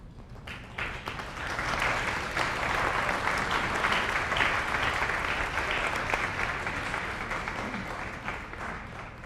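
Graduates at a Sault College convocation give a long round of applause for their families, a steady, dense crowd clapping that swells and holds for several seconds without speech.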